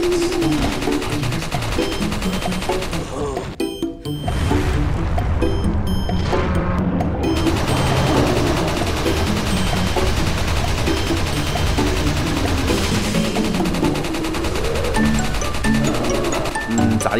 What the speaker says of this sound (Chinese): 如果给你一把无限子弹的冲锋枪可以突突突